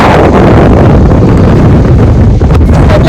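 Strong wind buffets the microphone in a steady, loud roar, with broadband rushing noise throughout and no voices.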